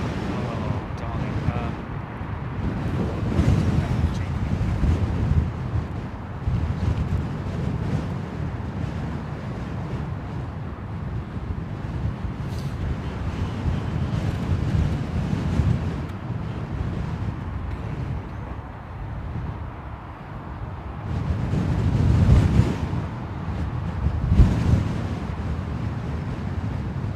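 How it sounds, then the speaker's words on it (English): Strong wind buffeting an outdoor microphone at London Heathrow Airport, a loud steady low roar and rumble with gusts swelling and fading over nearly half a minute; talk is faintly present. "wind's picked up"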